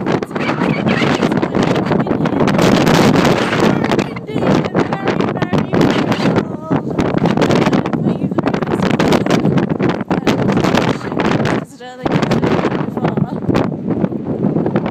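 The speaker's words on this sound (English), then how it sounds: "It's very windy." Strong wind buffeting a microphone, a continuous roaring rumble throughout with brief dips.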